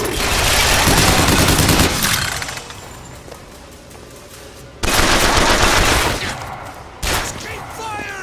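Sustained bursts of automatic gunfire from a Bioshock Infinite firefight, loud and close, coming in long volleys separated by quieter gaps with shouting mixed in.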